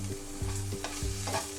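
Shrimp heads frying in a pan for a Bengali bhorta, a close steady sizzle with rhythmic scraping stirs repeating about every half second and no voices.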